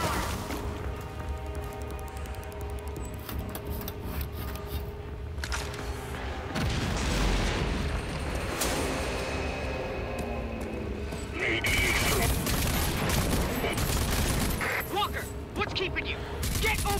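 A gun fires in Rage 2 in repeated loud booming bursts amid noisy combat effects, with a voice speaking over the action.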